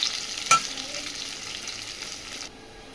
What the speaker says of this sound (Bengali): আর এদিকে আমি লাল করে আলুটা ভেজে নিচ্ছি।